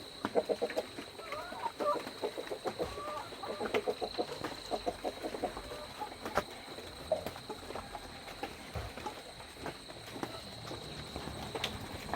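Native country chickens cluck and call in a coop, a busy run of short repeated clucks over a faint steady hum, with no talking.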